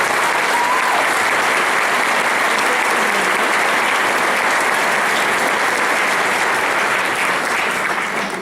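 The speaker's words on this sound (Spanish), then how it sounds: "Es un aplauso grande para ustedes." A large audience at a church service applauds steadily for several seconds, a dense, even wash of clapping that fades slightly at the end.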